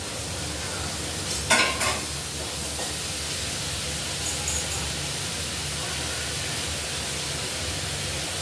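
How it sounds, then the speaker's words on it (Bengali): Ginger, cumin and coriander paste frying with potatoes, peas and a fish head in a pan: a steady close sizzle with a few brief clatters of a spoon against the pan, no talking. "এখন আমি এই আদা জিরে ধনেটা দিয়ে দিচ্ছি।"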